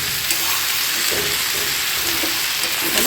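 Ginger and green chilli paste frying in a pan for prawn pulao, a loud steady sizzle with soft scraping stirs recurring throughout.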